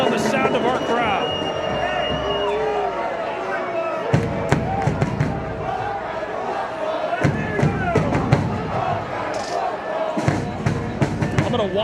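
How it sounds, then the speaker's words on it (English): A stadium crowd at a professional soccer match between Chattanooga Football Club and Chicago Fire FC II roars and chants, with sharp bangs and claps rising from the stands while an announcer talks over it. "I'll let you draw your own conclusion based on the sound of our crowd."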